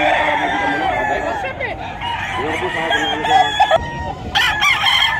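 Roosters crow repeatedly at the Bocaue, Bulacan pet market before dawn, several loud overlapping calls close by with clucking in between, and someone speaking briefly among them.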